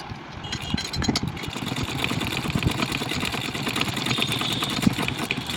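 Sewing machine running steadily while stitching a double seam on a blouse, a continuous mechanical whirring with rapid needle clatter at moderate volume, close up, with no talking.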